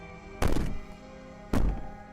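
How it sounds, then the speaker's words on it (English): Two heavy, booming bangs land about a second apart, each a deep thud that rings briefly and fades, coming from a door in the Slay the Princess video game. "Maybe the banging and wailing will stop if you just don't pay attention to it"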